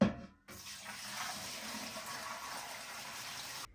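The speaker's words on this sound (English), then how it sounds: "I'm gonna take my pressure canner and I'm gonna pour some water in the bottom of it." Water being poured into the bottom of a pressure canner, a steady rushing stream that starts suddenly after a brief thump and runs evenly before stopping.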